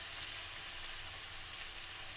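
Garlic cloves frying gently in oil over a low flame for garlic pickle, a soft, even, continuous sizzle with no talk over it.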